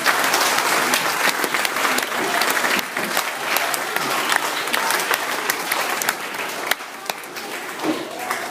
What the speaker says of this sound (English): Can we give them a clap, please?